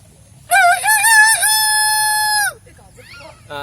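A human voice imitates a rooster's crow, a loud drawn-out cock-a-doodle-doo lasting about two seconds, followed by brief faint vocal sounds.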